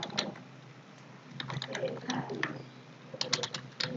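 Computer keyboard keys tapped in short bursts of clicks while renaming an object in robot simulation software, with a voice speaking intermittently over the typing.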